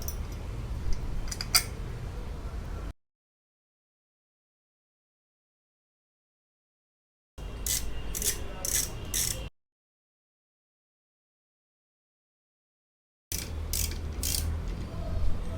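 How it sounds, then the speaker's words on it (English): Screws and bolts being tightened back into the cover of a Roots Vibrosonic horn, giving close, small metallic clicks and ratcheting turns in three separate bursts with silent gaps between them. "All the bolts are now tightened properly."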